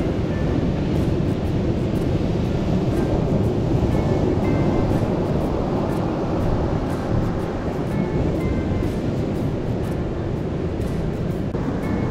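Ocean waves break on Rapahoe beach as a loud, continuous wash of surf mixed with gusting wind rumble, with no voices.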